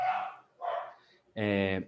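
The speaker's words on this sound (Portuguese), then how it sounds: "se os cachorros não atrapalharem de novo" A few dog barks, close by: two short rough ones and then a longer, more tonal bark or howl, with nothing else behind them.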